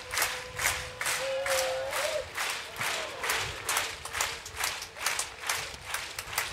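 Spectators on centre court at the Gstaad Grand Slam beach volleyball bronze match between Italy and Brazil clap in a steady, rhythmic unison beat, loud and close, while a shrill whistle-like tone briefly rises above the crowd.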